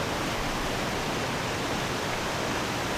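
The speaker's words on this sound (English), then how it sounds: "Slowly making my way down this icy waterfall." Water rushes down an icy waterfall in Tahoe, fed from a large mountain lake, as a steady, close, unbroken roar with no voices.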